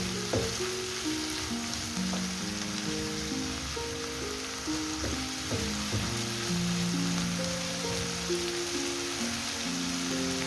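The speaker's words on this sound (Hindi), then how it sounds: "यहाँ पे हमने 1 मिनट वेजीज़ को हल्का सा फ्राई किया है" Vegetables sizzle and fry steadily in a pan for a white sauce pasta, with occasional clinks of stirring against the pan over a constant close hiss.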